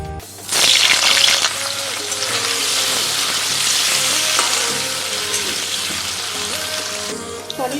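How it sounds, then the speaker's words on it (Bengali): Small paneer pieces sizzle in white oil in a kadai, the frying loud and steady throughout after a sharp burst at the start, with occasional stirring clinks and no talking. "এবারে কড়াইতে দিয়ে দেবো সাদা তেল, হালকা করে পনিরগুলো ভেজে নেব।"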